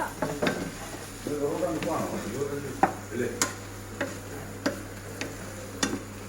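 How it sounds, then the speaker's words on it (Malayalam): Prawn roast gravy stirred in a hot pan, with steady sizzling under sharp scraping and clinking strokes of a spoon against the pan at irregular intervals, close and moderately loud. "നമ്മുടെ ഗ്രേവി ചേർക്കുവാണ്. ആഹാ, ഇത് നമ്മൾ മിക്സ് ആക്കുക."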